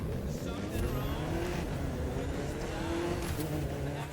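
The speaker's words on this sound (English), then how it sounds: "That car's really moving." A car races at high speed in the driving game The Crew 2, giving a continuous engine roar with rising and falling revving tones as it moves, heard at a moderate level.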